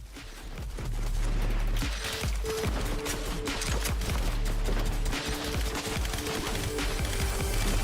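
Sustained rapid gunfire in a shooter video game, a dense continuous fusillade that stays loud for several seconds after a brief quieter start.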